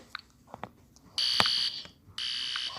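An electronic fire alarm sounding in two loud, shrill buzzing bursts, each lasting about half a second or longer, broken by short pauses, with a few faint clicks and bumps around them.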